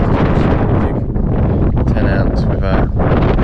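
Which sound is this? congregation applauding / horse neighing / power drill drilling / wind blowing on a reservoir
wind blowing on a reservoir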